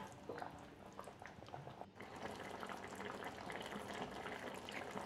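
Potato and drumstick curry simmering under a lid in a pan, a soft continuous bubbling hiss, quiet and close, with a brief dip before the steady boil resumes.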